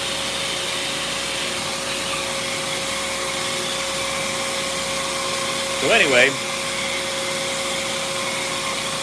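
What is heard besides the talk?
vacuum cleaner running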